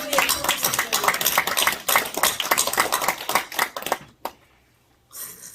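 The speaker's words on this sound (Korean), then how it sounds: "박수 한번 쳐드리세요." A church congregation at a theological school graduation service claps in a loud, lively burst of many hands for about four seconds before it fades out, followed by a brief rise of murmuring.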